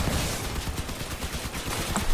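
Machine gun turrets on a vehicle in the post-apocalyptic combat game Crossout fire in a dense, continuous stream of rapid gunshots, loud and close throughout with no talking.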